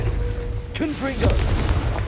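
Confringo explosive spell fired in Hogwarts Legacy: a booming blast with a sharp crack, then a second impact and a rumbling tail, with in-game sounds layered over it.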